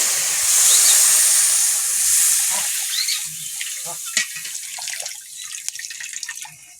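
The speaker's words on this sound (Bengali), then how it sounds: "কড়াই দেবো জল" Water pours into a hot wok after frying crabs, with a strong hiss that fades into softer bubbling and crackling.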